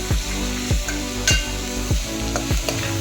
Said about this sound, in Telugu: ఇది కూడా కొంచెం పచ్చివాసన పోయేదాకా వేయించాలి